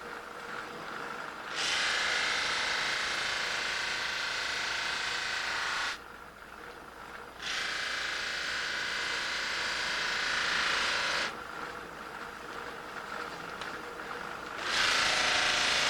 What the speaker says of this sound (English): It is further polished with final sanding.